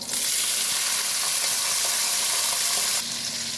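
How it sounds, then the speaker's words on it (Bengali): Botboti beans frying in hot oil give a loud, continuous crackling sizzle that drops in level slightly near the end, with no voices. "এবার ভেজে নেব বটবটি।"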